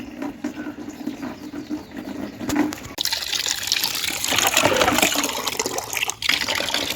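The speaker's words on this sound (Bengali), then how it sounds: "এই দেখুন পর্যাপ্ত পরিমাণে জলটা দিয়ে দিলাম" A potted pineapple plant being watered from a little height over soil-covered leaves: a soft trickle swells into a fuller, continuous splashing pour, close to the microphone.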